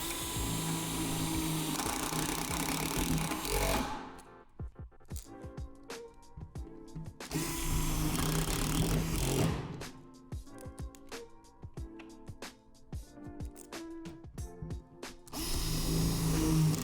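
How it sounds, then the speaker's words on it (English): A power drill drives self-tapping screws through the metal frame of a Lifetime Big Stuff swing set, with loud sustained whirring bursts alternating with quieter clicks and handling noises, close by and without talk. "Using the self-tapping screws, finish securing the panels to the frame through the remaining holes."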